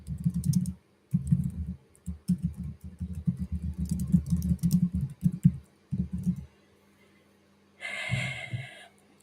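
Quick bursts of close, quiet computer keyboard typing come in uneven runs separated by short pauses, followed by a brief, brighter rustle near the end.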